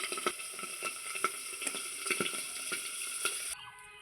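Pabda fish sizzling in hot oil in a pan, a steady dense crackle with small spattering pops, stopping abruptly near the end.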